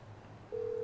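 Phone dialing the crazy mechanic in GTA 5, a low hum followed by a steady electronic dial tone starting halfway through the brief moment.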